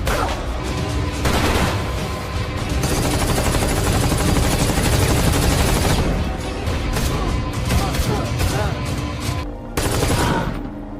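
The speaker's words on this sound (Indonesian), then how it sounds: "terjadilah baku tembak di antara mereka" Sustained gunfire from a film shootout, dense overlapping bursts of shots in rapid succession, loud and continuous with brief lulls before resuming.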